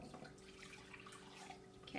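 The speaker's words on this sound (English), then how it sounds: "boiling water. We're going to put that in first." Boiling water pours into a bowl, a faint, continuous splashing trickle heard close up, with a brief louder gush at the end.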